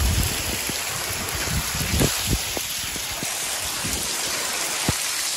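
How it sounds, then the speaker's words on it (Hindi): Heavy rain pours steadily in a dense hiss, with scattered drops and splashes landing nearby. "क्या जबरदस्त बारिश हो रही है"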